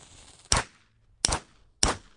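Three sharp party popper bangs at a surprise party, loud and close, evenly spaced with short silences between, and no voices.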